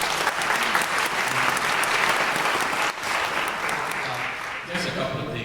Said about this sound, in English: Let's go to a round of applause.